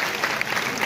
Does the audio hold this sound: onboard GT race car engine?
no